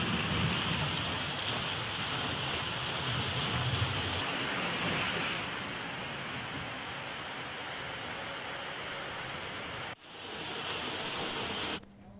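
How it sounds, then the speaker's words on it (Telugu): Heavy monsoon rain pours down in Adilabad, Telangana, as a dense, loud, continuous hiss of rain on surfaces. The wash eases slightly midway, and a low thunder rumble may sit underneath. "ఉమ్మడి ఆదిలాబాద్లోని పలు ప్రాంతాల్లో ఉరుములు మెరుపులతో కూడిన వర్షం పడుతుంది"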